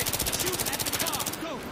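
Rapid automatic gunfire from the video game Battlefield 3, a fast steady rattle of shots lasting over a second before cutting off, loud and up front.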